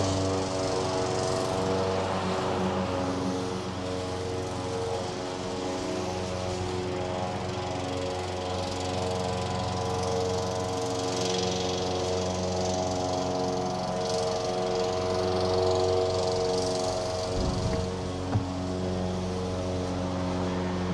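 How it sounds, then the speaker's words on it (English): A specialty lawnmower cuts lush grass at the Wimbledon tennis grounds in London, a steady droning motor with strong harmonic tones that holds constant for about twenty seconds, with a brief clunk near the end. "Specialty lawnmowers."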